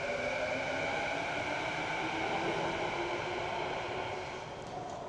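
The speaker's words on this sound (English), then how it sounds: "There's the train. Bye, train." A Vancouver SkyTrain (Translink) train passes near City Centre Station, a steady, loud electric rolling hiss and hum that holds evenly and then slowly fades as it departs.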